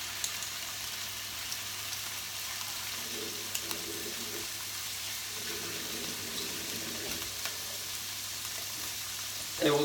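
Prawns fry in a hot pan for a creamy prawn courgetti dish, giving a steady, moderate sizzle close by with faint stirring and clatter, and no talking.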